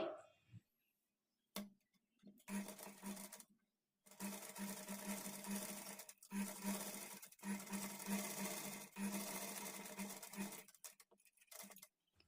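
A sewing machine stitches along the canvas edge of a patchwork blouse neck in several steady running bursts separated by short pauses, close and loud with a constant mechanical whir.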